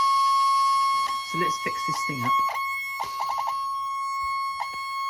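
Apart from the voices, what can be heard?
faulty servo buzzing in Aero Commander model aircraft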